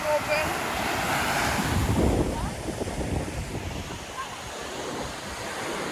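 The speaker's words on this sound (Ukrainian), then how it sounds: "Вітер." Strong seaside wind buffets the microphone on Crete at sunset, with surf rolling beneath it; a loud, continuous rush that swells slightly near the middle and then holds steady.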